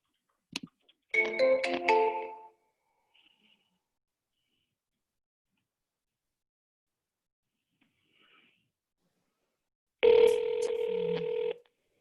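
Telephone ringback tones on an outbound call: one short burst, then long silence, then a second steady tone lasting about a second and a half, clear and alone.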